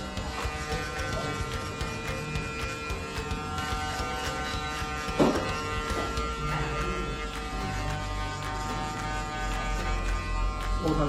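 Electric hair clippers buzz steadily and close up during a haircut at a barber, a continuous tonal hum with one brief clatter partway through.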